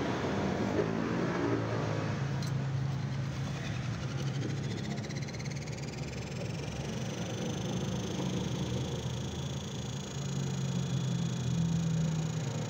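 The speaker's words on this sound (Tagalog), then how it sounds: "Okay, umaandar na po ang ating spin motor." A newly fitted spin motor in a spin dryer runs continuously, a steady whirring hum with a rising whine as it spins up, close and even throughout.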